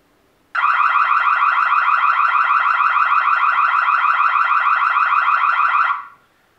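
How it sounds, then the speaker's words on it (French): The siren on a Netvue Vigil Plus outdoor wireless security camera blares a loud, piercing warbling alarm tone that holds steady for about five seconds and then cuts off, with no other sound around it. "On a une sirène d'alarme"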